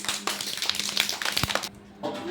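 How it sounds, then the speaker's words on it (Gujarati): Children at an anganwadi preschool clap for a girl named Fatima, a burst of quick claps running for under two seconds, close and fairly loud, followed by a short pause and a bit of noise. "ફાતિમાની તાળી પાડો જોરથી"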